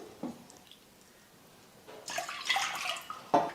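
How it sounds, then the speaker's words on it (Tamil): Water poured into a cooking pot, about two cups, a soft splashing pour building after a quiet start and a faint clink, then a short burst at the end, heard alone. "அந்த பாத்திரத்தில் 2 கப் அளவுக்கு தண்ணி சேர்த்துக்கிறேன்"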